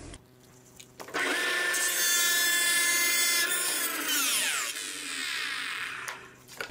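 A jointer takes a light pass of just under 1/16 inch along a flat wooden board: steady loud cutter whine and rushing hiss for several seconds, then winding down as the board clears.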